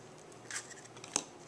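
Scissors trimming a long slender point on a Thanksgiving candy pouch, two quick close snips about half a second apart over a quiet background.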